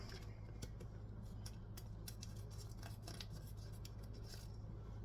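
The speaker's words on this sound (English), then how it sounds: "Scissors." Scissors snip repeatedly in a home kitchen while bison meat is prepared for burgers. The cuts come as a quick, irregular series of crisp metallic clicks, close and fairly quiet over a low steady hum.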